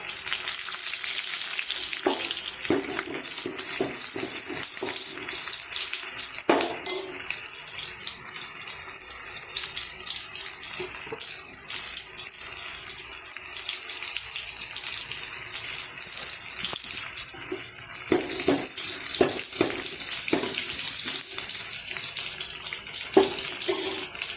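Onion, garlic and curry leaves frying in hot oil for a Kongu-style okra tamarind curry, a loud continuous sizzle with occasional stirring knocks and scrapes, close and sustained with no talking.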